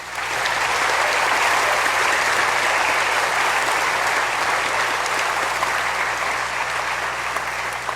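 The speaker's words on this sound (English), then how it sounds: "please join us in giving these fine soldiers a round of applause" Sustained, loud applause from a large audience at an infantry graduation ceremony for soldiers at Fort Benning, steady clapping from start to finish with no talk.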